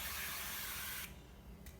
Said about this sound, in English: I prefer to get spray on oil since it's really easy to use.